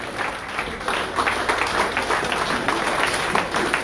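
Crowd at patronal festival speeches in Vert-Pré, Martinique, giving a round of applause, a dense steady patter of clapping heard from a middle distance.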